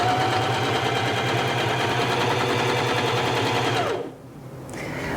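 A Janome HD5000 sewing machine stitches fabric in a steady, rapid mechanical chatter for about four seconds, then stops abruptly and leaves a faint hum.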